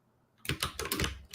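Quick burst of typing on a computer keyboard, close and crisp, several rapid key clicks in an uneven rhythm after a quiet start.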